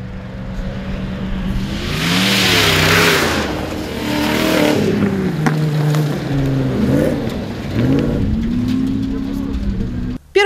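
Rally raid cars racing in a regional mini rally raid championship, engines revving hard and shifting through gears as they pass close by, with someone talking over the roar.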